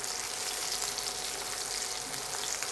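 Chopped green chillies frying in a pan of oil with cooked ginger for Rajasthani patle gatte ki sabzi, giving a steady, even sizzle that holds constant throughout without talk.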